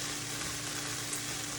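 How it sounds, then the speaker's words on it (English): Red onions frying softly in a pan, a steady close hiss of gentle sizzling with no talk over it. "But the red onions, it's okay to let them get a little bit soft in the pan."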